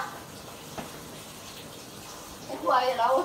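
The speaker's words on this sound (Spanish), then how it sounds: "enjuague la botella" Water runs softly into a bottle being rinsed, a faint trickle that swells into a louder gushing slosh near the end. A voice speaks over it.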